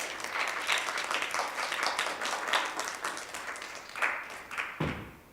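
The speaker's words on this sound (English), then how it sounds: "Let's give Gabby a round of applause." An audience applauds a guest named Gabby at a holiday event, a steady wash of many hands clapping at moderate loudness that tapers off near the end.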